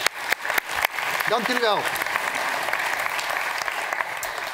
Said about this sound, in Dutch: Heel hartelijk applaus